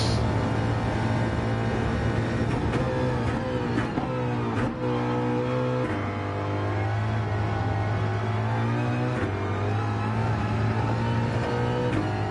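A race car engine holds a loud, steady drone close by, with its pitch stepping up sharply several times as the driver downshifts and revs between gears.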